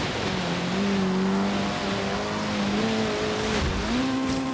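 A car accelerating in the racing game Forza Horizon 3, engine droning steadily and climbing in pitch through gear shifts, loud and close with no talk.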